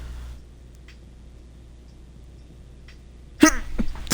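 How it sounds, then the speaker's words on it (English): A single sharp sneeze bursts out near the end after several seconds of near silence. Only faint small noises come before it. "I might sneeze, hold on."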